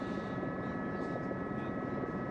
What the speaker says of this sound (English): as the helicopter joins up with Patrick Gretsch.